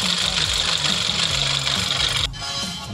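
A Volkswagen engine idling roughly with a misfire, a loud steady drone with an uneven, knocking rhythm that suddenly drops lower and quieter near the end.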